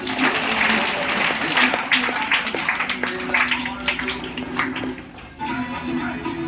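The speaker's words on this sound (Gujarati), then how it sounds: "તાળી પાડો ભાઈ।" A gathered audience at a spiritual assembly breaks into steady applause on request, dense clapping sustained throughout with a brief dip near the end, voices murmuring underneath.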